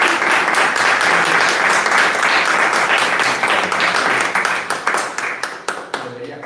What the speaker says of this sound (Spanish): por favor, un aplauso para todos vosotros